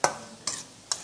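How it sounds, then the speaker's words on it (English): Three brief scraping strokes of a spoon stirring food in a cooking pan, each a short rasp that fades, evenly spaced and fairly close, with no talking. "Give it a few stir."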